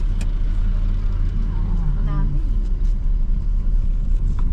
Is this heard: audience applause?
no